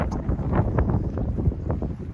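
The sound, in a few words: wind blowing on an island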